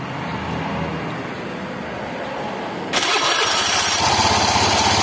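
Honda Beat FI motorcycle engine cranks on its electric starter and catches, settling into a steady, loud, near idle after a quiet run-up.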